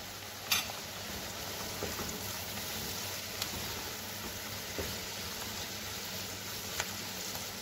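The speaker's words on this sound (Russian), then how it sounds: "Лук уже, морковь тоже пожарились." Onion and carrots fry in a pan for an Armenian beef soup, a steady soft sizzle with a faint low hum beneath and a few small ticks and clicks now and then, no voices.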